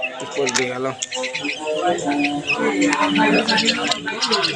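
A pet common myna chirps and calls in repeated bright bursts, up close, while another voice or background murmur runs underneath throughout.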